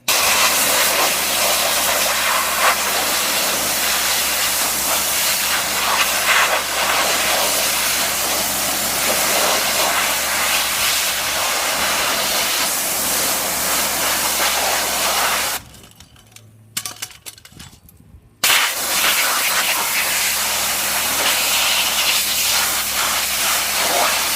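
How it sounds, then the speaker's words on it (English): Cold water pressure washer rinsing acid off a trap, a loud continuous hissing spray that cuts out briefly for a couple of seconds before resuming at full force. "This is not a steam cleaner, it's actually just a cold water pressure washer."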